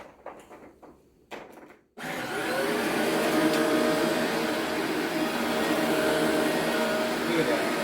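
A Shark cordless vacuum cleaner switches on after quiet handling sounds and roars steadily and loudly, a close, continuous whine with broadband suction noise.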